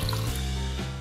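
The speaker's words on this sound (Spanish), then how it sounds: "El agua se le echarás de acuerdo a qué tan líquida quieres que esté tu salsa" Water poured from a container onto chiles, pineapple, onion slice, garlic and salt for blending into a salsa, a short, full, steady pour.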